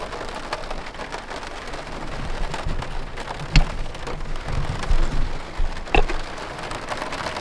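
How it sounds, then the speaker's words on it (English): Steady rain patters and splashes nearby at a remote bush camp in Northwest Ontario, a dense continuous hiss with scattered louder drops and a couple of sharp taps. "As you can hear, it's raining out."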